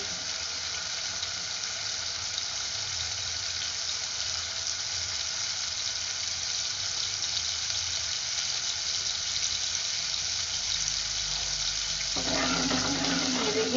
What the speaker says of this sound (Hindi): ये हमारा लहसुन अदरक भुन जाएगा